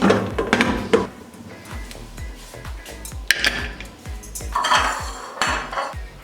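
Metallic clanks and clatter of a pressure cooker lid being handled and closed over mutton nihari, several close knocks with brief scraping, no voices.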